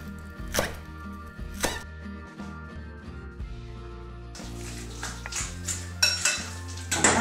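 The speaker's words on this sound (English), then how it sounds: "now I'm going to just chop this quite finely" A knife chops three-cornered leek finely on a board, with a few sharp isolated cuts early on giving way to a denser, faster run of chopping strokes, close and fairly loud with no talking.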